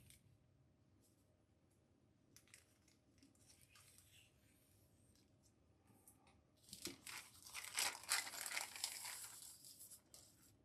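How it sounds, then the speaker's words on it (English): A plastic sticker package is cut open during an RC10 Classic kit unboxing: quiet rustling and handling at first, then loud close crinkling and tearing of plastic for a few seconds before it settles. "Let's cut this one open and see what's on the inside here."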